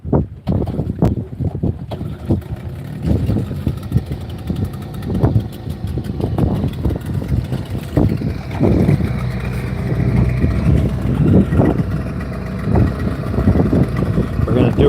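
A motorboat engine starts and runs with a steady, loud rumble, mixed with gusty wind noise against the microphone, while people talk over it.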